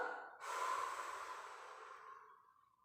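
A long exhale at the end of a stretch in a fitness class, soft and close, starting sharply and tapering off gradually over a couple of seconds.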